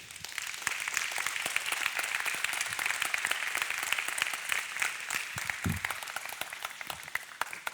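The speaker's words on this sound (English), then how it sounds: "Another hand of applause to Michael." An audience claps steadily, dense close applause that runs continuously and evenly without speech over it.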